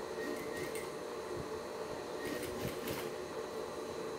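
A sewing machine runs steadily while stitching a curve on a zippered pouch with two dividers, giving a continuous mechanical whir with faint rhythmic ticks at moderate distance.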